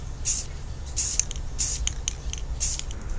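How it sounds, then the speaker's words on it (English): A spray paint can hisses in several short bursts close by, filling in a woodworking repair, with quiet gaps between each spray. "Let's just fill this in with a little bit of spray paint."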